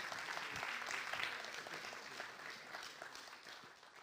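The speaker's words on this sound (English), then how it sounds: "Let's give them all another round of applause." Another round of applause from a symposium audience for panelists gathered for a group photo: a broad wash of many hands clapping, fairly distant and soft, steady for a few seconds before easing off.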